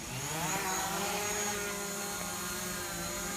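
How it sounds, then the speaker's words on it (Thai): A DJI Mavic Pro drone's propellers spin up for takeoff with a steady, high buzzing whir that holds fairly even throughout at moderate loudness, with no talk. "พอเวลาดันพร้อมกันแล้วใบพัดจะติด ครับ แล้วก็มือซ้ายก็ดันขึ้นได้ทันทีครับ เครื่องบินก็จะบินขึ้น"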